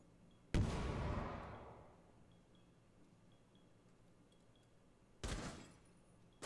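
Gunfire in a Rainbow Six Siege match: a loud, close burst of shots that rings out and decays over about a second, then a quieter stretch before a second shorter burst.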